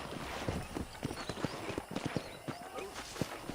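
Horse hooves clop in a steady, brisk rhythm on hard ground in the video game Red Dead Redemption, with scattered snorts and faint background noise throughout.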